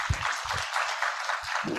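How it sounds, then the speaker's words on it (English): Applause from a conference audience honoring two panel speakers at an investment dialogue, a steady wash of clapping for about two seconds with no talk over it. "let's have a round of applause also for our two speakers"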